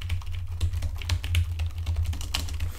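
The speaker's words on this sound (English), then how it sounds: "I'm going to be typing away at about 500 words per minute." Rapid typing on a computer keyboard, recorded by a Tonor TC-777 USB condenser microphone placed directly below it, gives a dense, continuous patter of close key clicks.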